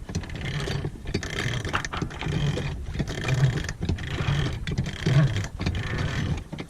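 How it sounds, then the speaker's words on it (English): A sailboat windlass or winch hauls up a 65-pound anchor and its chain, giving a steady mechanical grinding and clanking with rhythmic ratchet-like pulses, close and continuous. "not only are you lifting a 65-pound anchor, you're lifting whatever weight and chain is down there"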